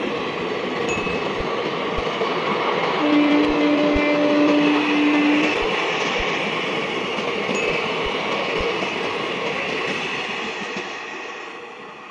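Sahebganj Express hauled by a WAP5 electric locomotive rolling through a curve on the line, a loud steady rumble and rail roar with rhythmic wheel clicks over joints, fading slightly toward the end.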